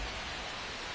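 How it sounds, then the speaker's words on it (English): Rain falls during a baseball game in the video game MLB The Show 25, a steady, dense hiss that stays even and unbroken for the whole short moment, with no voices over it. "This rain is not letting up."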